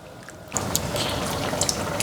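Running tap water splashes into a bowl as dough is washed for liangpi cold noodles, a steady close rush with small drips and splashes throughout.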